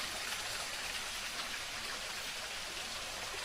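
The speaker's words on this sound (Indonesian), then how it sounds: "Ada aliran sungai yang airnya mengalirnya itu sangat tenang" Steady, gentle flow of a calm river stream at a remote spring site, a continuous soft wash of water heard close and alone, with no voices.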